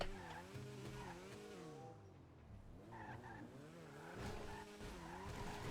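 A 1963 Volkswagen Beetle skids in GTA 5, its tires squealing in repeated wavering, pitch-sliding bursts over steady engine drone, loud and continuous; no talk.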